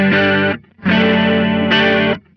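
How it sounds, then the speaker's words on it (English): Two sustained guitar chords run through a Walrus Audio Julia analog chorus pedal set to a classic chorus sound, shimmering and wavering, the second chord held longer with a brighter change near its end. "we'll start from sort of straight up, which is kind of, again, classic chorus sound"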